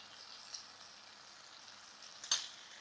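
Coriander, turmeric, chilli powder and salt fry in a pan for a ridge gourd masala curry. The sizzle is soft and steady, with one brief sharper hiss near the end.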